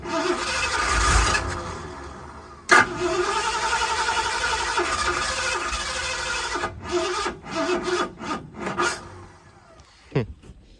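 A 1978 Ford engine, fresh from an HEI distributor swap, cranks with a rough grinding whir, then runs unevenly and sputters in stuttering bursts before cutting out, close by and with no talking.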